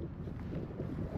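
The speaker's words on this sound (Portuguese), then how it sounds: "E agora bateu o vento" Wind gusts roar steadily and close against the microphone during a January day outdoors in Montreal, a dull, constant buffeting with no talk.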